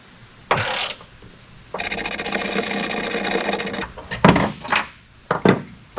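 Impact driver with a Torx T55 bit breaking loose a very tight bed bolt on a Toyota Tacoma, a loud two-second burst of rapid hammering close by, framed by short clanks and handling noise.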